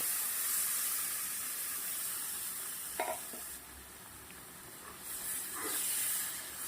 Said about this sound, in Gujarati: તો હવે જે આપણે અખરોટ દૂધના અંદર પીસેલા છે એ નાખી દેવાના છે.